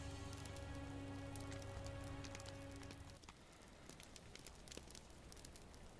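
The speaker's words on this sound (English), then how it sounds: "It is still coming down rain out here." Steady rain patters continuously in the Lord of the Rings Online game world, a faint dense hiss with scattered droplet ticks, while a low musical tone fades out partway through.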